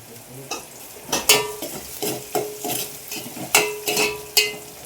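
Chopped onions frying in hot oil with cumin and mustard seeds in a pan for North Karnataka-style avarekayi palya, steady close sizzle under repeated spatula scrapes and stirs, about eight distinct strokes.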